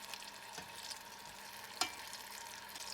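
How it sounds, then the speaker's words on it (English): Squirrel meat sizzles steadily in a hot pan, browning, with occasional scraping stirs and one sharp clink of a utensil. "they're frying good at least"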